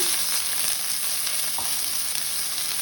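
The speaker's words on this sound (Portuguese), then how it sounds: "Coloquei aqui azeite, a panela já tá quente. Entro com uma cebola picadinha." Chopped onion sizzles in hot olive oil in a pan at the start of a pumpkin and dried-beef risotto, a close, steady crackling hiss with a faint stir or scrape partway through.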